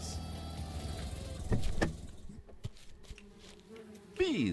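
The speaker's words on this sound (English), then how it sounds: "Bees!" Bees buzzing in a video game, a steady insect drone heard over low ambient game sounds, with a few brief thuds and a rising whir near the end; no one speaks.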